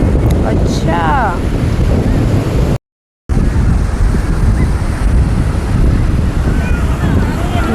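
Sea waves and gusting wind roll in at Somnath beach. The surf and wind form a loud, steady wash that blows into the microphone, with a brief voice early on and a short dropout midway.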